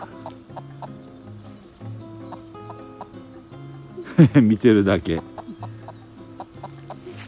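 A burst of loud, close chicken clucking rises for about a second, with faint background sounds and a brief quiet voice around it.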